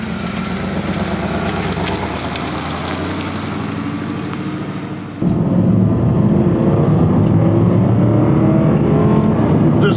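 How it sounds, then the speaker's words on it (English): A 2008 Porsche Cayenne's naturally aspirated V8 runs with a loud, steady engine drone, then surges midway into a deeper, heavier roar as it revs, close up with no talking. "The sweet sound of a naturally aspirated V8."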